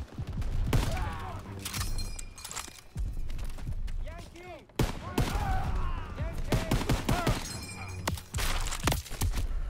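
Gunfire from Pak 38 anti-tank guns in the World War II shooter Call of Duty: WWII, loud bursts and cracks in a dense battle mix, with voices shouting over the fighting.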